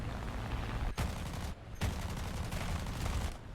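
Rapid bursts of aircraft machine-gun fire in a flight combat video game, loud sustained volleys aimed at an enemy plane, broken by two short pauses before the firing resumes.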